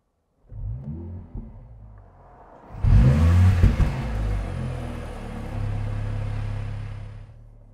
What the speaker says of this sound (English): We're going to do an AMG emotion start.